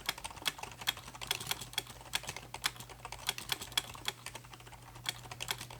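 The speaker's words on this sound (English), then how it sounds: "Here's a quick typing test." Keys clack on a Rosewill Neon RGB mechanical keyboard in a quick, uneven run of close, crisp strokes, with steady typing rhythm and a faint low hum underneath, no voices.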